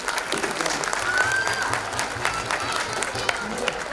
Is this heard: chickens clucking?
no